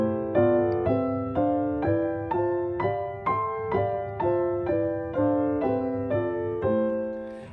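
Solo piano playing drop 2 block-chord voicings up through the entire scale, about fourteen evenly spaced chords struck one after another with each one decaying briefly, close and clear with no talking.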